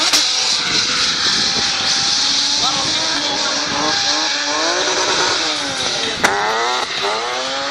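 A race car's engine revs and wails continuously while tires squeal through a long drift at a French Drift Championship event, loud and close, with a crowd or commentary murmuring beneath.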